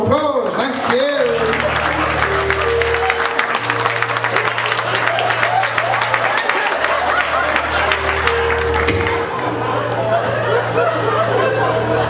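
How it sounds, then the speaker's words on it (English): An audience at a live singing performance applauds steadily, a dense clatter of many clapping hands that lasts throughout, mixed with crowd chatter and a low droning hum. "Let's round of applause, thank you!"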